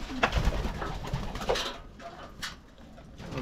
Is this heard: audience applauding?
no